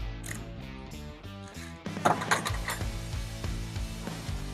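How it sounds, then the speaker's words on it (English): A torque wrench ratchets while a stabilizer link bushing is tightened on a Polaris Ranger 1000 during control arm replacement, producing steady clicking mechanical ratchet strokes close up with a louder burst partway through. "let's go ahead and set the torque wrench to 18 foot-pounds"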